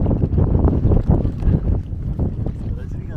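A coracle, a round river boat, carries riders on a river near Hogenakkal waterfalls, with a steady rush of wind and water rumbling close to the microphone throughout.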